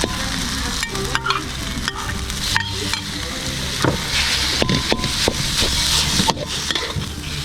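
Pork meat hits hot oil in a pan already reddened with dried chili for Nam Prik Ong, a Northern Thai dipping sauce, sizzling and frying steadily close up while a utensil stirs with repeated scraping and clinking.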